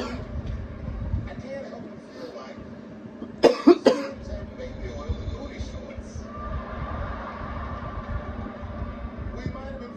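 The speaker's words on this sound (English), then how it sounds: "I cough a lot." A short burst of two or three harsh coughs, close by, breaking through low background rumble and murmuring.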